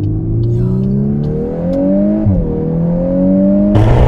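A VW Golf 8 R engine on overrun, with a steady drone of falling and rising tones, a brief dip in revs partway through, and a burst of crackle near the end, heard close from inside the car.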